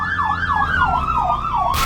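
A wailing emergency-vehicle siren in Arma 3's Altis Life mode sweeps up and down in steady repeating cycles, loud and close, over a low engine rumble, before a sudden burst of broadband noise at the end.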